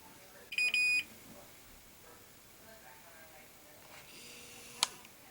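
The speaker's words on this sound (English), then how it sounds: "Beep a couple times, then shut off and go through this again." A Kenmore HE3 dryer showing an F70 error code gives two electronic beeps, a long high-pitched tone followed later by a short sharp bleep, over a quiet background with faint room noise.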